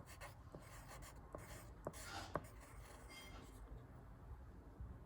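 A pencil scratches on paper in short strokes, with faint taps and scrapes spread across a few seconds and some quiet room noise behind, close and soft.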